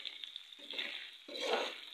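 Onions sizzle and fry in hot oil in a large pot for vegetable biryani, a steady close hiss with stirring scrapes swelling in two bursts.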